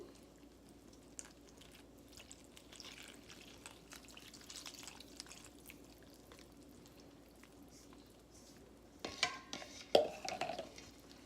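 A flour mixture being stirred as oil and water are gradually worked in, with faint scraping and soft stirring at first, then brief louder clinks and scrapes of a utensil against the bowl near the end.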